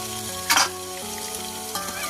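Mutton drops into an onion tempering on a wood-fired chulha, a sudden loud burst of sizzling settling into steady frying with brief scraping stirs.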